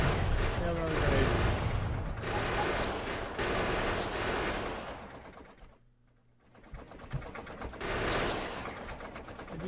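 Dense bursts of gunfire and grenade blasts from a Factorio game battle with robots and a defensive wall, loud and continuous with a brief lull midway, while a voice talks over the action.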